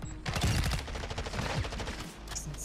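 Gun turret firing in the video game Call of Duty, a rapid stream of automatic gunfire bursts rattling continuously with dense, clattering shots and little pause, at moderate loudness.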